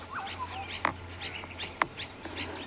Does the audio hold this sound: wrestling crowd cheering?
no